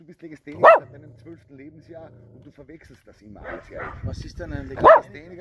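Two sharp dog barks, one near the start and one near the end, loud and close, with people talking in German between them.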